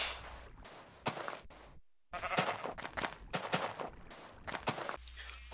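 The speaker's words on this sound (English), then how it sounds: "And I've got some sheep jumping around in the water." Sheep bleating from the video game Minecraft as they jump around in water, several short bleats with splashy bursts in an uneven rhythm, fairly close, no talk.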